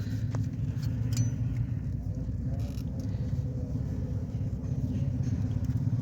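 Toyota Corolla engine idling in a workshop during oxygen sensor diagnosis, a low steady rumble at moderate distance with faint clicks and light metallic taps.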